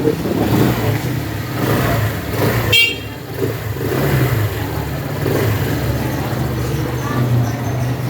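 A 2024 Euro Samurai 155i motorcycle engine revving up in repeated rising bursts, close by, with people talking over it.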